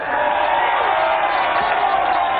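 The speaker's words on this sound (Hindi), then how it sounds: "जरा देखो, तालियां हो जाए" A crowd applauding and cheering in a Hindi-dubbed movie, a dense continuous roar of clapping and voices, loud and unbroken for a couple of seconds.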